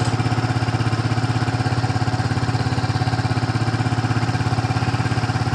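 A Yamaha Vixion motorcycle engine running steadily at around 2500 RPM, a close, loud, even mechanical drone with a fast regular pulse that holds constant throughout, with no talk.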